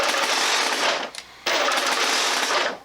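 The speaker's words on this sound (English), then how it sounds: "if you pull and hold the trigger, 6-round burst. We can go up to a 12-round burst" Motorized foam blaster loosing a rapid 12-round burst, a dense whirring rattle of flywheel shots that cuts out briefly partway through before resuming, loud and close, with no voices.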